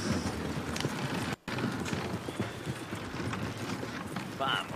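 Horse hooves clip-clopping in a western-themed scene, a steady run of hoofbeats mixed with busy background noise and a brief dropout, with voices talking over it.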